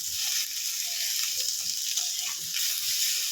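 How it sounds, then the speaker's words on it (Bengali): Brinjal frying in oil gives a steady, hissing sizzle at a moderate level, broken by faint stirring clicks. No voices are heard. "বেগুনগুলো ভাজা হয়ে গেছে তুলে নেব"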